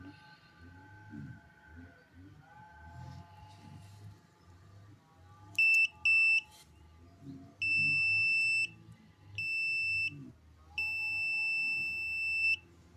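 Clamp meter continuity test beeps, a sharp high tone sounding as the probes touch: two short beeps, then several longer sustained beeps of varying length over a low background hum with faint handling noise.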